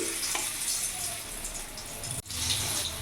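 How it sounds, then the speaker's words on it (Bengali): Stuffed bitter gourds with a spiced masala filling fry in hot oil in a pan, giving a steady, loud sizzle throughout with a brief dip near the end. "তেল গরম হয়ে গেছে এবার এক একটা এমনি পুর ভরা উচ্ছে আমি দিয়ে দেবো দুটো দুটো করে ভাজি"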